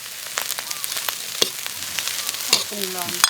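Steady crackling sizzle of fish frying in a hot pan, with scattered pops and spits, close and continuous.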